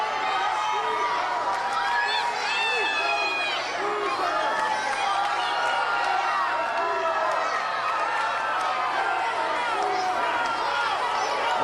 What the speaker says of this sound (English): Morrison enjoying the adulation of the crowd here.